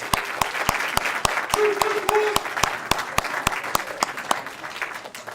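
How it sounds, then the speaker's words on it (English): Attendees at a city council meeting applaud Troop 361 for their help, a steady bed of crowd clapping with sharp, evenly spaced claps from one nearby person cutting through, as a voice talks over it. "let's give Troop 361 a big round of applause for their help"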